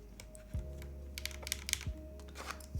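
Quiet, close typing on a custom keyboard being built: a steady patter of light key clacks with a few louder taps, over a faint low hum.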